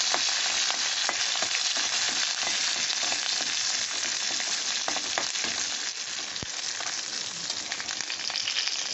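Chopped curry leaves sizzle steadily in hot oil in a pan for rava upma, with a constant loud fry hiss and scattered scraping clicks of stirring throughout.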